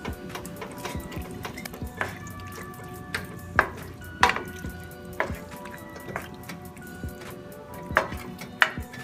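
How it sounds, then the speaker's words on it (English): Shepherd's pie filling with red pepper flakes and a bay leaf bubbling in a pan, a steady low simmer broken by scattered sharp pops and drips, close by, with no talk. "Okay, this is starting to boil."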